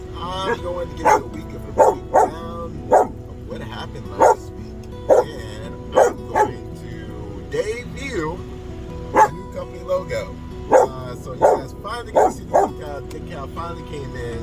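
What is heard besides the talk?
dog barking at a man replacing a trailer tire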